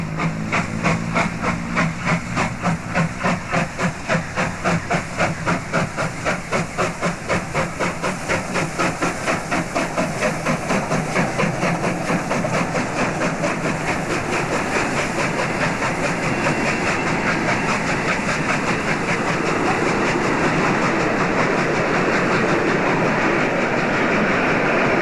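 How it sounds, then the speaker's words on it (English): South Australian Railways steam locomotive 621 pulls out of Horsham, Victoria, in 1994, its loud exhaust chuffs beating steadily beneath a constant roar of hissing steam, with no voices. "It's now 11:15 and the train is seen leaving Horsham"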